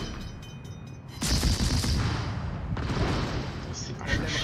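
Naval guns firing in World of Warships, a broad booming salvo that rumbles on for several seconds after a quieter opening, with talk over it.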